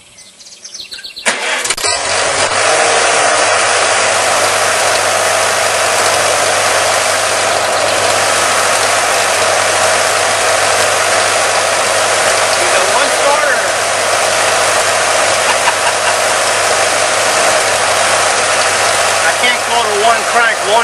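A Farmall C tractor left sitting for five months starts on one pull, a brief cranking catch giving way to a loud, steady engine running close by, with birds chirping faintly under it.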